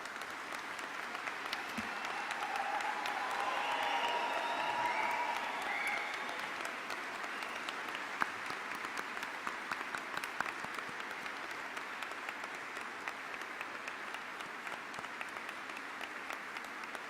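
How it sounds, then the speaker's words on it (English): Sustained applause from a graduation audience at a Leeds Beckett University business ceremony, steady and even for the full stretch, a large hall of clapping hands with no speech over it. "would you please be upstanding and applaud our exceptional achievers"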